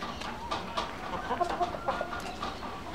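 Chickens clucking in a backyard flock that includes a young rooster, with several short, medium-loud clucks and calls scattered across a few seconds, alone without talk.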